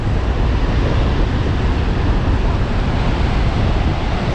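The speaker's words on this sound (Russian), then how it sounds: "сейчас будет ветер в камеру" Strong wind buffets the camera microphone at a chilly Anapa seaside, a loud, steady rumbling roar with surf noise mixed in, lasting throughout without a break.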